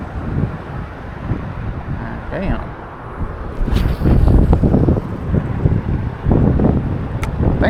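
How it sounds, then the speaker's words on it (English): Gusty wind buffets the microphone while fishing from a bridge over the Intracoastal Waterway, loud rumbling surges rising and falling, with a brief spoken word in the middle. "Man, it is so windy"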